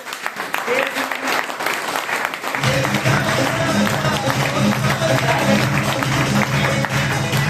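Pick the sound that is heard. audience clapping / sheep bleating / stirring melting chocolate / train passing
audience clapping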